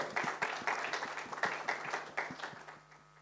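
An audience claps steadily to welcome an actor onto the stage at a Marathi film trailer launch, a moderate-level ovation of sharp, dense claps that gradually fades.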